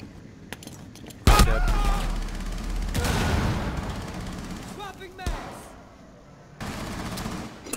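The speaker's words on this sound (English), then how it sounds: "They're coming down the main stairs, they're shooting in." Gunfire in the video game Rainbow Six Siege on the Hereford Base map, loud bursts of rapid shots with booming impacts, mixed with other game noise and players talking over it.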